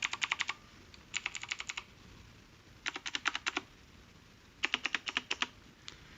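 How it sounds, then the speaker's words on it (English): Bursts of rapid typing on a HIWING HI100 tenkeyless mechanical keyboard with clicky blue switches, four quick runs of sharp, close clacks, each about half a second long, separated by pauses, with a lone keystroke at the end. "It's pretty clicky. I'd say it's about as clicky as most of my other blue switch mechanical keyboards"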